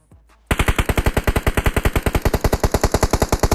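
Rapid automatic gunfire in the battle royale video game PUBG Mobile, a loud burst of about thirty evenly spaced shots fired in quick succession after a brief quiet moment.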